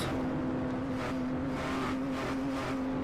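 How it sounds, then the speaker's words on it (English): A race car engine in a racing video game at the Nürburgring, a steady loud droning hum with slightly uneven pulsing, suggesting sputtering, heard close and continuous without talk. "You can already hear the car sputtering"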